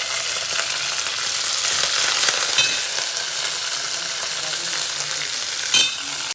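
Dried red chilies and curry leaves frying in hot oil for a Telugu-style prawn curry give a steady, close, loud sizzle with occasional stirring scrapes, and no talking.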